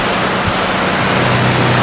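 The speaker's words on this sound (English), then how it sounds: "They're sending me water through the 5-inch hose into my intake." Water rushes through a 5-inch fire hose into a pumper truck's intake at around 100 psi, a loud, steady, broadband roar with no speech.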